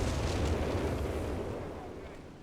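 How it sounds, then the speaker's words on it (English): Artillery barrage in the Company of Heroes 3 strategy game, a dense rumbling roll of explosions that starts loud and slowly fades away over a couple of seconds. "Here comes the barrage."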